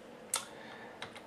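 A few sharp, isolated keystrokes on an Italian computer keyboard, one louder click followed by two fainter taps close by in an otherwise quiet room.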